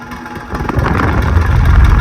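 A vintage Westinghouse Lively Aire oscillating desk fan runs close by with a loud, rough whirring that builds in low-end rumble and has a slight rattle. There is no talk.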